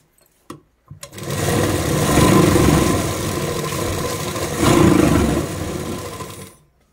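A sewing machine runs steadily while stitching a blouse, a continuous whirring motor drone with two slightly louder surges, starting after a couple of brief clicks and stopping abruptly at the end.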